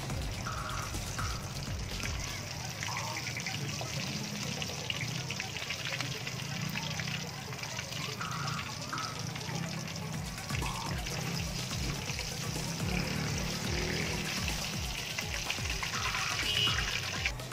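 Water and vinegar being poured into a cooking pot for fish escabeche, a soft continuous splashing pour in a home kitchen, fairly faint, with a person talking over it.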